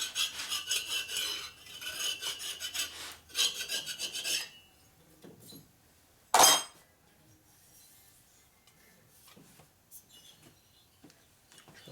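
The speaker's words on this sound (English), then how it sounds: "I'm going to take a file to it. Some kind of burrs or something on there someplace." Hand file rasping burrs off a 1990s Evolution Sportster 90ci big-bore motor case, close and steady in repeated strokes for about four seconds, then quiet handling sounds with a single sharp metallic clink midway.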